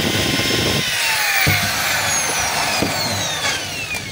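A DeWalt DWD024 half-inch hammer drill runs continuously at close range, a steady high whine with slight pitch wavering and a faint rattle, heard alone.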